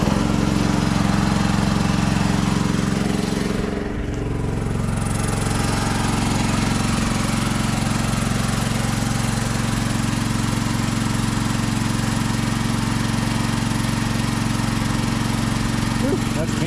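A mini excavator engine fitted with a modified muffler starts and runs. It makes a loud, continuous, close-up rattling drone at a steady pitch, with a brief dip in the early seconds.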